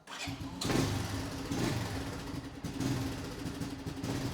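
A Honda Big Red engine idles steadily at low speed after repairs to leaking fuel hose clamps, a close, even mechanical drone with a faint periodic thump and no voices over it.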